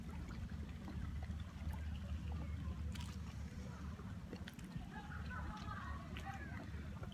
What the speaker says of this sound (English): you can hear the waves just lapping against the sides of where you're sitting.